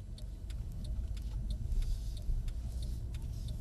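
Low, steady engine rumble from a Mercedes-Benz CLS AMG rolling at walking pace at Mercedes-Benz World, a continuous near hum with faint intermittent clicks above it and no talk.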